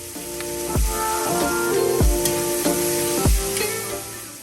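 Vegetables with garlic and fresh thyme sizzle steadily in a hot pan with a continuous crackling hiss, broken by several muffled low thumps along with music.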